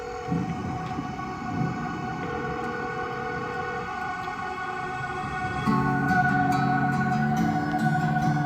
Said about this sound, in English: just a couple risers and the cell phone ring